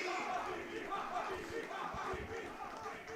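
Pro Sesto football supporters at a Serie D match against Pro Palazzolo chant the goalscorer Banfi's name, a dense rhythmic crowd chant filling the stadium steadily throughout.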